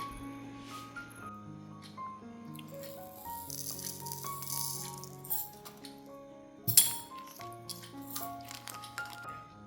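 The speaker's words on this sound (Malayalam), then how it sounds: "ഇനി ഇതിലേക്ക് ബ്ലാക്ക് ക്രിസ്റ്റൽ കോർത്ത് കൊടുക്കാം." Small black crystal beads click and rattle against each other while being strung onto a necklace, soft close tinkling with a sharper clink near the end, no talking.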